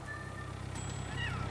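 Cartoonish cats meowing in a video game, a couple of short high meows over a steady buzzing game background.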